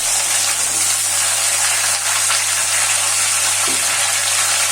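Tomato quarters and drumsticks frying together in a pan with mustard-poppy seed paste, a steady loud sizzle with faint stirring scrapes, close and continuous without talk.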